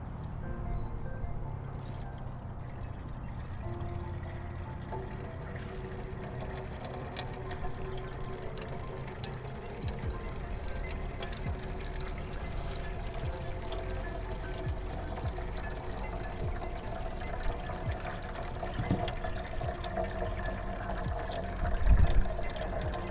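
Water is poured onto soil in an infiltration demonstration, a steady continuous pour and trickle that goes on for over twenty seconds, fairly close and even with no talk.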